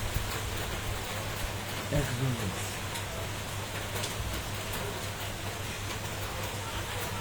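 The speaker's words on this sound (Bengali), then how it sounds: "আপনারা বৃষ্টি দেখতে থাকেন" Steady rain falls during a Kalbaishakhi storm in Dhaka, a dense, even hiss of drops that continues unbroken with no voices.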